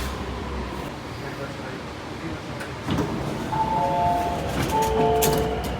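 Sydney Metro train doors sliding open at Crow's Nest station, a soft mechanical rush with faint chime tones, under a steady hum of station and carriage noise.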